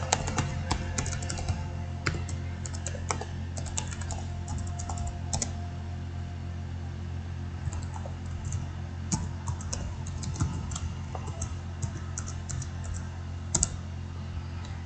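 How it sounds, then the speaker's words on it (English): Keys clatter on a computer keyboard as a PIN is entered during a Windows 11 install, a steady scatter of close, light clicks over a constant low electrical hum, with no talking. "I'm going to type in my new pin."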